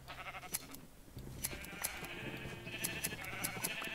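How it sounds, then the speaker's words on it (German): Sheep in the game Minecraft bleat several times in quick succession while being sheared, the bleats layered over light background game music, fairly loud and close. "Scheren wir mal die Schafe"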